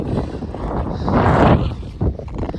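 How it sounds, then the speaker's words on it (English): Cold wind gusts across a microphone on a high trail in Rocky Mountain National Park near Estes Park, Colorado, a loud, close, rumbling buffet that swells in the middle and then eases. "The wind is blowing."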